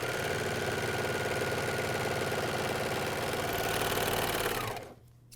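A MyLock 454D serger runs steadily while chain piecing pajama bottoms, a continuous close mechanical whir with a fast stitching rhythm that holds for about four and a half seconds before winding down and stopping.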